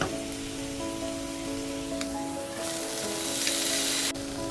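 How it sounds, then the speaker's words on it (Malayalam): Sliced potatoes dropped into a pan of frying onions and curry leaves, loud continuous sizzling close up that swells as they go in, with a faint steady tonal hum underneath. "നമുക്ക് ഉരുളക്കിഴങ്ങ് ഇട്ട് കൊടുക്കാം"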